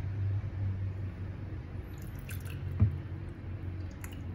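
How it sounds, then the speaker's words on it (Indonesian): Water splashed onto a children's IP67 waterproof electronic watch gives soft, faint drips and one small splash near the middle, over a low steady hum indoors. "Kita akan coba untuk pertama terhadap cipratan air ya."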